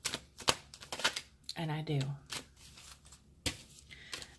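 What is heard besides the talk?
aggressively shuffling tarot cards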